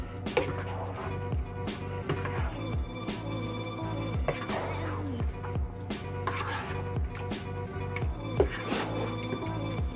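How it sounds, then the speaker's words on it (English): Spaghetti noodles being mixed with sauce in a metal pot, utensil clanks and scrapes repeating in an uneven rhythm over a faint simmering sizzle, close up with no talking. "You just go ahead and mix those noodles together with the sauce"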